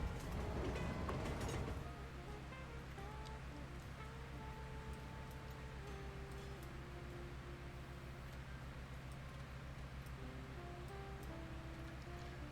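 Cargo trains roll through a city in the Cities: Skylines 2 game, a steady low rumble of wheels and wagons with faint tonal hums over it, louder briefly at the start then constant, no talking.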